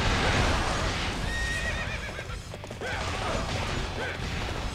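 Horse neighing and galloping in Dynasty Warriors 8: a whinny rides over dense battlefield noise with rapid hoofbeats and mechanical clatter, loud and continuous.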